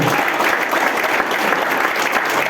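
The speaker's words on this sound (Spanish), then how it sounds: "Dale un aplauso al Señor, hermano." Applause fills a church congregation after a sermon, a dense, steady wash of many hands clapping throughout at close, loud level.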